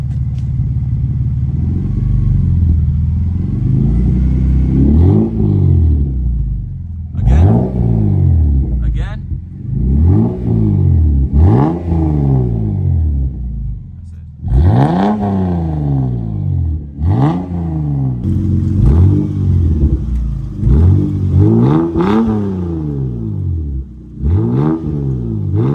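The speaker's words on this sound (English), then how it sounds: "we're gonna go ahead and give you guys a couple revs" A 1995 Toyota Supra SZ-R with an HKS Hi-Power carbon-Ti exhaust revs repeatedly, each blip rising sharply and falling back to a throaty idle, close and loud over nearly half a minute, with talking at times.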